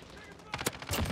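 Gunfire in a multiplayer shooter video game comes as a quick burst of sharp, rapid shots in the second half of a short moment, over a low background hum.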